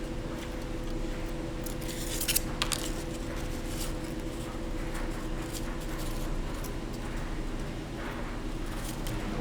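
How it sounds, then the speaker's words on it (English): Scissors cut a circle out of paper as the paper is turned, giving faint, irregular snips and crisp paper rustles scattered over a low steady background hum. "if you turn your paper while you're cutting, it helps you trace the circle with your scissors"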